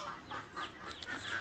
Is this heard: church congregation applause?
no